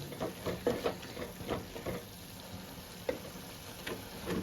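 Dried bamboo shoot curry with garam masala being stirred in a pan, a steady crackling sizzle broken by scraping stirs and soft clinks, close and moderately loud with no talking.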